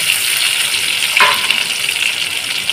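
Chopped tomato dropped into onions and green chilli frying in oil in a pan, a continuous bright sizzle with a brief splashy burst in the middle, loud and close.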